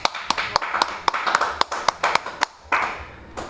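Sharp rhythmic clapping in a classroom, about a dozen crisp claps in an uneven burst, close and loud, with a brief gap before the last few.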